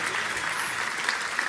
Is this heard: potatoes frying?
no